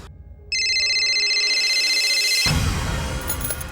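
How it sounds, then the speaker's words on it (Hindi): A phone rings loudly with a steady electronic trill, then a burst of noise and clatter cuts in partway through. "पॉली को फोन करो।"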